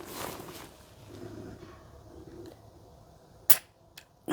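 A pistol fires at a basic shooting workshop: one sharp crack stands out near the end, followed by a fainter short report, over quiet room noise.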